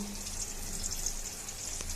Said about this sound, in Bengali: কুমড়ো ভাজা দিয়ে রান্না শুরু করলাম